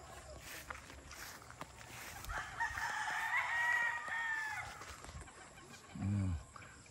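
An SBR over Melson's Black gamefowl rooster crows once at a distance, the faint call rising over quiet outdoor background noise, followed near the end by a short, lower clucking sound from close by.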